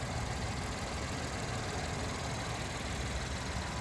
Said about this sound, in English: The engine idling very happily.